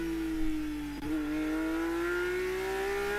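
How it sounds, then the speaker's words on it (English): A Porsche Supercup race car engine drones and climbs steadily in pitch during qualifying at the 2025 Spanish Grand Prix, with a brief dip near the start, sounding like a car passing at speed. "We've made sure the engine sounds are loud for you as well."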